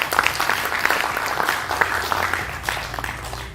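Audience applause at a public talk, steady close clapping from a crowd that holds at a full level and tapers slightly toward the end.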